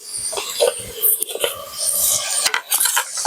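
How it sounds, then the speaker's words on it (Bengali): Chicken pieces are stirred in a handi pot, giving close, busy metallic scraping and clinking from the spoon against the pot, with soft sizzling underneath. "এবার আমি মাংসটি আরো ভালোভাবে নেড়ে নেব যতক্ষণ না মাংসটা কষানো হচ্ছে"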